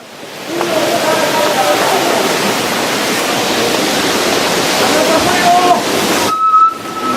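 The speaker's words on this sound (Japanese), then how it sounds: "津波が押し寄せております。" Tsunami waves surging ashore on the Japanese coast produce a loud, steady rushing roar of churning water. It holds for several seconds, dips briefly near the end, with faint voices and tonal sounds in the background.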